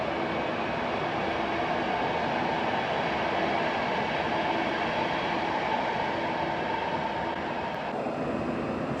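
Czech railways locomotive hauling a train departing from Warszawa Zachodnia station in Warsaw, a steady broadband rumble and rolling clatter of wheels on track that stays loud and continuous throughout, with no voices.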